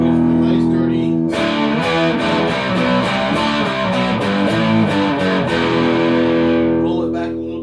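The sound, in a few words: electric guitar through distorted tube amp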